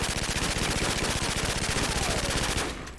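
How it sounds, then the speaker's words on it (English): Continuous rapid automatic fire from a P90 submachine gun in Call of Duty, a loud, even stream of shots lasting nearly three seconds before cutting off. "The last submachine gun, guys, is always a classic, is the P90."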